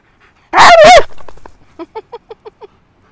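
A dog in a Swiss alpine valley gives a loud, drawn-out bark-howl up close, then a run of six short, quieter yips or woofs in quick, even rhythm against near silence.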